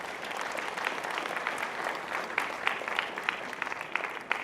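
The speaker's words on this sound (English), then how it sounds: "so let's give them a round of applause." An audience at a graduation ceremony claps steadily for several seconds. The dense, even applause has a few louder individual claps near the end.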